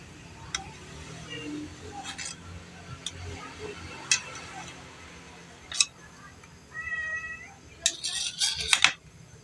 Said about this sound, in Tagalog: nagmimiyaw na naman yung ating alagang pusa